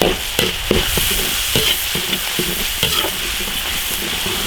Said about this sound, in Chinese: 把辣椒酱炒成红油